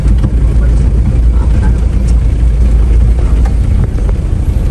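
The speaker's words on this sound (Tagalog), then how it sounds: "paakyat si Sandel, bumababa na yung RPM niya eh" Off-road vehicle engine on a light dirt trail in Bulacan, fitted with a three-row aluminum radiator, climbing uphill as its RPM drops; a loud, steady, close engine drone fills the whole stretch without a break.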